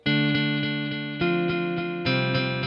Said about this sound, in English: create echoes when you play